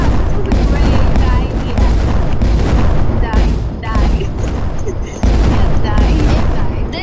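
Rocket launcher blasts in the Roblox Jailbreak video game, a dense, loud run of booming explosions rolling almost without a break, with game noise and a voice mixed underneath.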